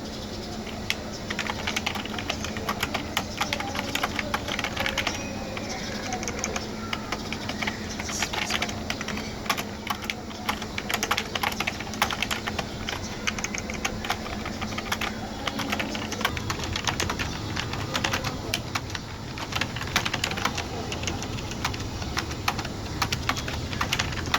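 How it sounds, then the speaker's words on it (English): Rapid, continuous typing on a Fantech K511 Hunter Pro membrane gaming keyboard, soft muffled key presses clattering steadily up close for a long stretch. "Here's a typing sound test."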